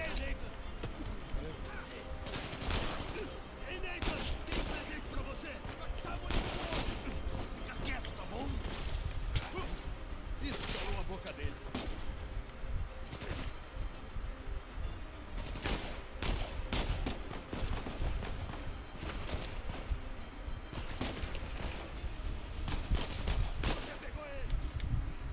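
Gunfire in Uncharted 4 gameplay: repeated sharp shots and bursts scattered through the whole stretch, some in quick clusters, under ongoing game action and occasional talk.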